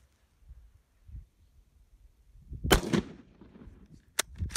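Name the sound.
hang fire of Italian surplus 8mm ammunition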